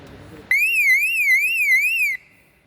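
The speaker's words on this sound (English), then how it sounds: "The sounder will start" A Federal Signal sounder module emits a loud warbling electronic alarm tone that rises and falls steadily for about a second and a half, then cuts off abruptly.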